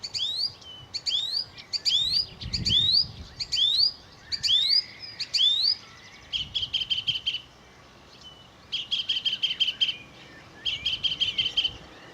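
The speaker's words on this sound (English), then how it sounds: "Wonderful song thrush, I believe." A song thrush sings on a countryside walk along a road near a stile: clear, repeated phrases of sweet whistles and rapid chattering notes in distinct bursts, fairly close, over faint outdoor background noise.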